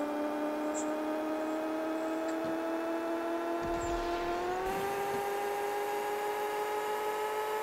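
A car engine in the Pixel Car Racer video game drones at high revs with a steady synthetic tone. Partway through, the pitch jumps upward as it downshifts and then holds the higher whine, with no voices.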